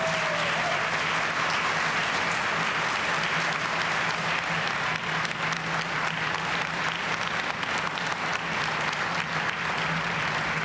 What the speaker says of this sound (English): You're getting big roars from the crowd